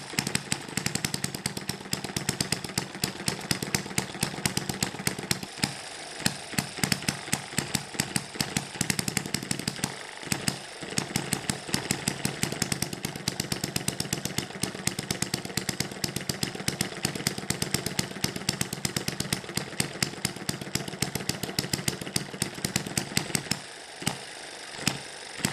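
An Eachine ET1 model hit-and-miss engine runs under load, a fast, steady train of sharp mechanical firing beats close up that briefly slows and stumbles a few times before picking back up.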